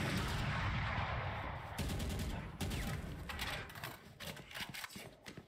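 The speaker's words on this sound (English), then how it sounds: "But Spence is going to get taken out with the sniper." Rapid gunfire bursts in a Valorant college esports match, loud and dense near shots with sharp repeated cracks fading toward the end.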